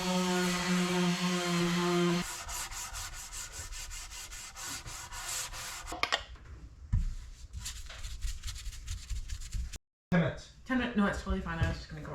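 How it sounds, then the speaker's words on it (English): A power drill bores through the wood of a boat's bowsprit, first as a steady whining motor, then as a grinding, scraping chatter, while people talk nearby. "I have to drill through at some of these locations"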